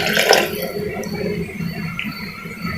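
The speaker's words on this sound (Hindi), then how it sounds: "1 गिलास में पानी डालूंगी इसमें" A glass of water poured into a pressure cooker holding round gourds (tinda) being cooked in a home kitchen; a splashy burst at the start settles into a softer, steady trickle.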